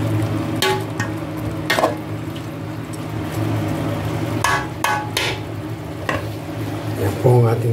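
Chicken being sautéed and stirred in a pan for tinola with bottle gourd, a steady close sizzle broken by repeated scraping strokes of a spoon against the pan, with a brief clatter near the end.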